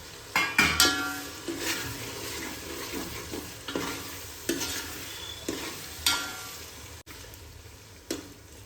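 Chopped potatoes sizzling in oil for Gujarati-style poha, with intermittent spoon clanks and scraping stirs against the pan over a steady frying hiss, close and fairly quiet, no talk.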